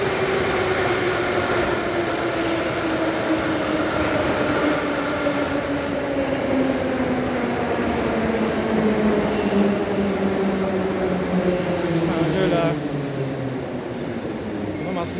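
A Moscow metro train runs near Vorobyovy Gory, a loud steady rumble of wheels on rails with whining motor tones that slowly fall in pitch as it slows, while a voice talks faintly under the noise.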